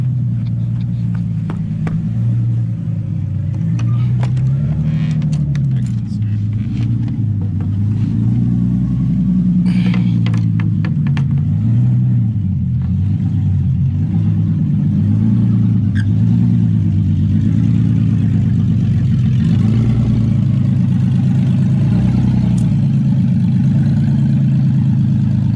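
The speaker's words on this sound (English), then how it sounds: "Oh yeah, that's the supercharger." A 2007 Nissan Altima SE-R, third generation, with a swapped engine and supercharger runs steadily nearby, a continuous low rumble with slight revving swells throughout, unbroken and fairly loud.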